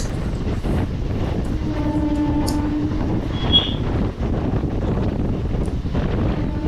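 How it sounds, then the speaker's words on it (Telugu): A MEMU passenger train travelling between Vijayawada and Bhimavaram, with a steady broadband rumble of the moving carriage and wind, plus a brief high squeal in the middle, no talking. "మేము ట్రైన్ బాగుంది ట్రైన్ జర్నీ బాగుంది"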